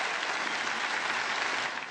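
Steady applause from a crowd, dense and loud throughout, with no voices standing out, tapering slightly at the end.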